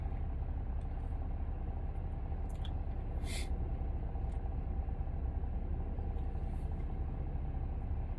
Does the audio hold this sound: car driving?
yes